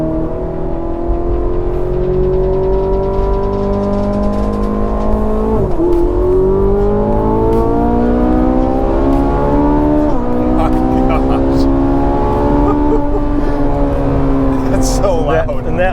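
A high-revving Ferrari 458 Italia engine screams loudly and continuously, pitch climbing through repeated gear changes, with occasional voices faintly underneath.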